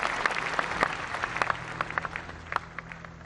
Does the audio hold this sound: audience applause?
yes